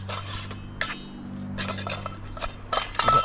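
Metal parts of a wood-burning firewood stove clink and rattle as they are handled during unpacking and assembly, with repeated close, bright clanks in irregular bursts over a low steady hum.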